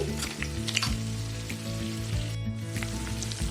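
Ingredients for bisibele bath, including capsicum, frying in a pan, a continuous loud sizzle with faint scraping, close by and steady throughout, with a low humming drone underneath.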